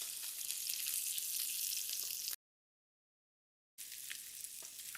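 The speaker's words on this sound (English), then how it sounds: "I definitely need sizzle, but just not too much, so I'm kind of cooking with my ears" Salmon fillet searing presentation-side down in a hot pan, giving a steady, moderate hiss of sizzling oil that cuts out abruptly partway through, then resumes at the same level.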